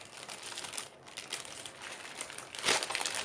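Crinkly plastic packaging on a small kit is handled and torn open nearby, a busy run of close crackles and rustles with a louder crunching burst near the end.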